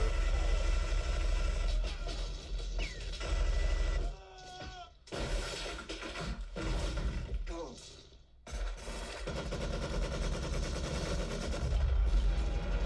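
Minigun fire from the movie Predator roars as sustained, dense bursts of gunfire, loud and continuous, with a brief gap midway before the barrage resumes.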